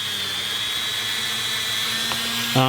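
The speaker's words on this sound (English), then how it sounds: "I'm going to polish across the top of the cross" A rotary tool spins steadily with a thin high whine while polishing a small Glock trigger part, held close and continuous throughout, with a brief change in tone at the very end.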